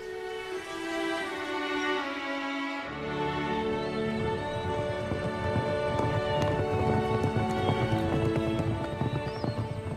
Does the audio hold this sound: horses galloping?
yes